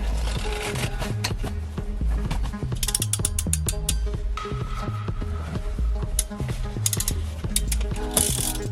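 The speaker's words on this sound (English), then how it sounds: "We'll cut these to length and add in our own new ring terminals." Car stereo wires for a Ford F150 are cut to length and fitted with crimped ring terminals, with close ratcheting clicks from a crimping tool in rapid bursts and metallic snips over a steady background.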